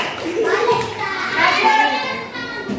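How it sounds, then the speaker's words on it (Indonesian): Children clapping their hands together in a busy classroom, a lively patter of claps mixed with young voices chattering. "Tepuk tangan untuk kelompok Ridwan lagi."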